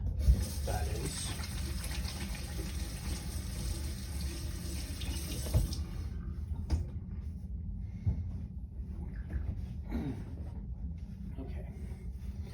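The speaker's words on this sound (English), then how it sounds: "I'm going to wash my hands again, off screen." Running tap water pours into a sink as hands are washed, a steady broadband rush that cuts off about halfway through, leaving quieter kitchen clatter and faint voices.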